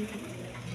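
Domestic pigeons, a pair of hens offered for sale, coo softly and steadily at close range, a low murmuring drone with no voices over it.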